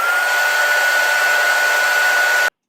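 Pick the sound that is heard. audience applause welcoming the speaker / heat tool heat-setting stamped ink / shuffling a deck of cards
heat tool heat-setting stamped ink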